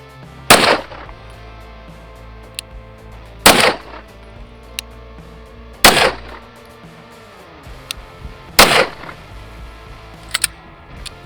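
Four loud, sharp gunshots spaced a couple of seconds apart, G9 ammunition fired from the 6-inch barrel of a Raider 365 pistol, each crack followed by a brief ringing decay, with a couple of faint clicks in between.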